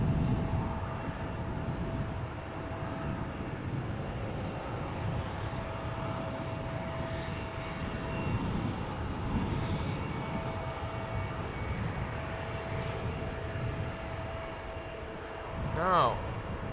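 An Embraer E2 jet departing Schiphol airport gives off a steady, broad engine roar at moderate distance throughout, with a rising whine near the end as it passes closer; a voice speaks briefly.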